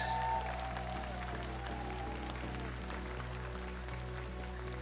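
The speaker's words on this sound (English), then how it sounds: "Can we hear another round of applause for these two?" Faint applause from an audience, a soft continuous patter of clapping heard at a distance.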